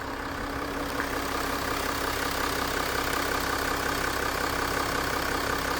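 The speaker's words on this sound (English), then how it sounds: "The engine is very quiet." A 2014 Range Rover L405 idles quietly, its soft, steady engine hum holding even and unbroken throughout with no voices over it.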